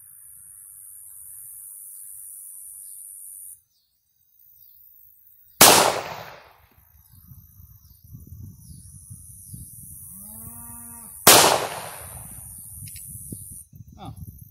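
Two sharp, loud gunshots ring out during shooting practice, spaced several seconds apart and each followed by a brief decaying echo, with steady background hiss and faint movement between shots.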